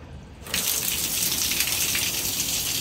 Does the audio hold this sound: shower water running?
yes